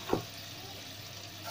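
Dahi bhalle batter fries in hot oil with a faint, steady sizzle and a soft splash near the start as a portion drops in.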